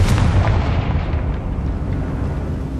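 The Confringo fire-blast spell in Hogwarts Legacy goes off as a loud, heavy explosion, a deep booming roar that peaks at once and then rumbles and fades slowly across a few seconds, with no talking.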